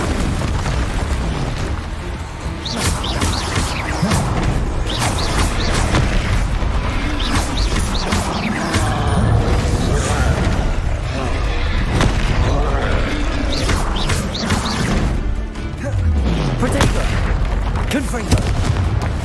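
Repeated booming blasts from Confringo fire spells in a Hogwarts video game, loud and dense with overlapping bursts and rumble throughout, and a voice calling out the spell names among them.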